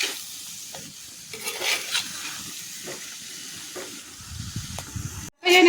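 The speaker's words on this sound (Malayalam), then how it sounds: "ഇനി ഇത് നന്നായി ഇളക്കുക." Chicken fries in a pan with onion and turmeric as a spoon stirs it, soft sizzling and hissing broken by several scraping stirs, close and fairly quiet, ending in a brief louder clatter.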